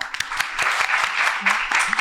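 An audience at a live Catalan broadcast applauds an illustrator being welcomed at an Abacus shop event, a short burst of lively clapping from a small crowd with a few voices heard briefly.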